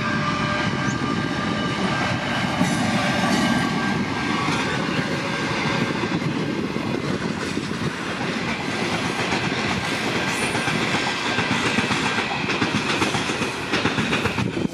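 The Overland passenger train bound for Adelaide, locomotive NR4 leading a consist of six cars, rolls past with a sustained engine drone and rhythmic clickety-clack of wheels on rail joints, steady and moderately near for the whole passage.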